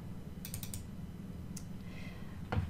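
A computer mouse gives faint, quick clicks in small clusters over a quiet room hum, followed by a slightly louder click near the end, with no talking.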